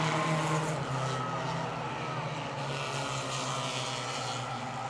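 Stock cars, including a Dodge Daytona and a Buick, racing at Motordrome Speedway produce a steady, dense engine roar from a pack of cars, loud and continuous throughout the clip.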